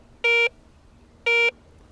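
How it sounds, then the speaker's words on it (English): A Garrett AC 250 metal detector gives its medium-conductivity tone for targets like jewelry, nickels or foreign coins: two short, evenly spaced electronic beeps about a second apart, clean and alone. "while targets of medium conductivity, such as jewelry, nickels, or foreign coins, sound like this."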